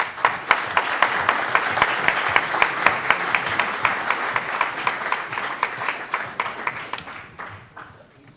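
Audience at a poker tournament directors' summit applauds an all-time money winner and Hall of Famer, a full room of steady rhythmic clapping with sharp regular peaks that gradually fades out over eight seconds.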